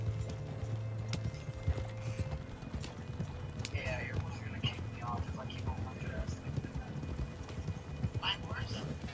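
Horse hooves clip-clop at a steady gallop in Red Dead Online, with a brief whinny partway through, moderately loud over game ambience and a faint speaking voice.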